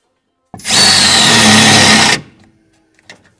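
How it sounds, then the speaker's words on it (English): A power drill bores through 3/8 bolts to widen them to 7/16, a single loud, high whining burst lasting under two seconds that stops abruptly, followed by faint clicks. "let me drill them out to, I don't know, 7/16"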